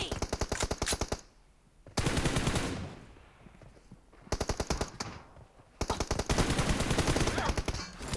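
Automatic weapon fire in PUBG Mobile during a one-on-one fight in a library, loud rapid bursts of shots separated by short pauses, the second pair of bursts as strong as the first.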